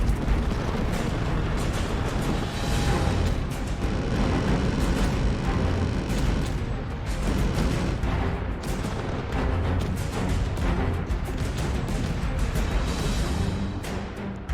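Missiles launch and guns fire nonstop during a large ship skirmish battle in Space Engineers, a dense, rumbling barrage of overlapping shots and blasts that stays loud throughout.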